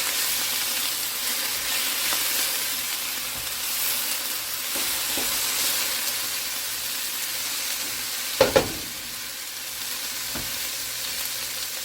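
Chicken browning in a pot of Mexican chicken soup sizzles steadily, a broad constant frying hiss with a few brief stirring clanks near the end.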